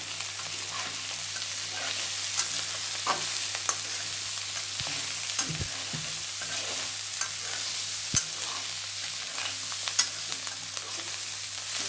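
Chicken curry cooks down in released oil with a steady close sizzle, while a spoon scrapes and knocks against the pan at irregular intervals throughout.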